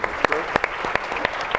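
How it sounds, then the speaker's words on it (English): At a housing finance symposium, an audience claps for the panel speakers, with a brief spattering of distinct, fairly close claps over a couple of seconds alongside some voice. "Let me give you a round of applause first."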